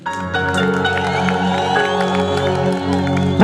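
A church congregation cheers, whoops and shouts praise for Jesus at a lively service, with a dense crowd roar sustained throughout over steady musical tones, swelling near the end.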